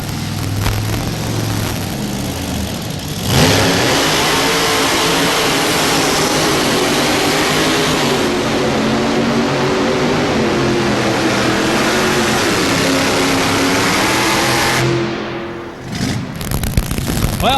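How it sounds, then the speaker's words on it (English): A Camaro pulling truck's V8 misfires, no longer running on all eight cylinders, making a loud, steady, harsh engine roar that runs unbroken for most of the stretch before dipping and sputtering near the end. "The engine not hitting on all fours, or all eight, I should say."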